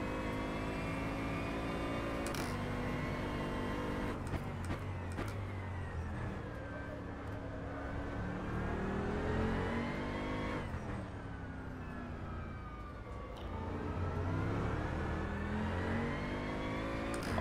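Upgraded GT3 race car engine in the rFactor 2 racing game, a steady sustained drone with shifting pitch as it revs through gears and brief shift breaks, loud and continuous throughout.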